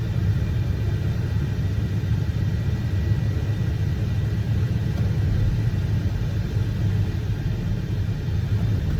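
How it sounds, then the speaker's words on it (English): A car engine idles in neutral, with its air-conditioning cooling belt-driven. A steady, close, low rumble holds evenly throughout and no one speaks. "I'm not putting it in park, I'm putting it in neutral because this engine, the cooling system for the air conditioner is belt driven"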